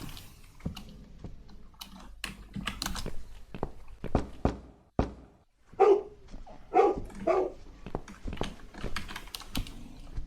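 A dog barks in the horror video game The Cat Lady, with several loud, sharp barks in an irregular burst over faint background sounds.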